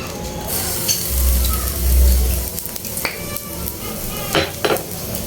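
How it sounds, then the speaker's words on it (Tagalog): Carrots and potatoes sautéing in a pan, a steady close sizzle with a few clinks and scrapes of a utensil against the pan and no talking. "Magigisa na tayo."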